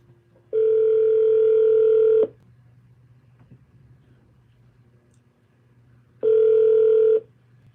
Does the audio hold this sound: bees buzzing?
no